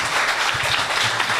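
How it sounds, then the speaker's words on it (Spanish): Brief burst of loud, dense clapping from an audience applauding the panelists at a political science discussion, lasting just over a second. "Les pido un fuerte aplauso para los panelistas acá."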